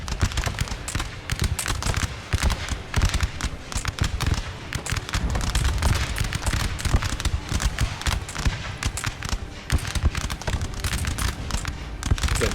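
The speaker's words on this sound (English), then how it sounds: "Got bullets flying everywhere." Musket volleys crackle nonstop in a Napoleon Total War battle around a defended house, dense overlapping shots and pops rolling like a firefight with no voices over it.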